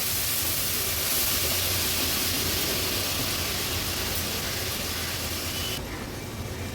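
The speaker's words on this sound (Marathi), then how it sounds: "वाटण तेलावर व्यवस्थित परतून घ्यायचंय" Ginger, garlic, chilli and coriander paste frying in hot oil for an Agri Koli style fish curry, giving a loud, steady, close sizzle that holds throughout and thins slightly at the very end.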